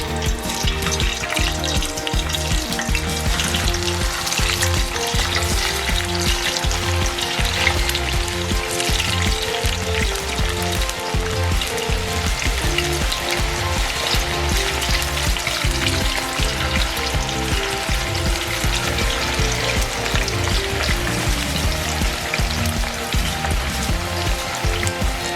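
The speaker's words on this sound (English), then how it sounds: "Now let's get these in the frying pan." French fries sizzle steadily in hot oil in a frying pan, a dense, continuous crackle that stays loud and even throughout, with no voices over it.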